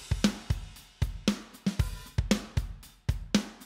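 A drum beat plays alone: punchy kicks and sharp snare hits in a steady, moderately fast rhythm, close and clear.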